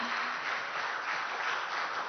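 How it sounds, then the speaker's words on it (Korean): An audience claps after a startup investor pitch at a busking-style event. The applause is faint and steady, a soft, even wash of many hands from a distance. "여러분 큰 박수 보내주시기 바랍니다"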